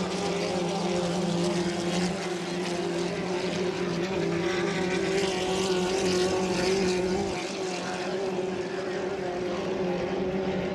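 A 2.5-litre racing hydroplane accelerates during a consolation heat at St-Félicien, its engine a loud, sustained droning roar with steady harmonic tones that swell slightly midway, heard without commentary.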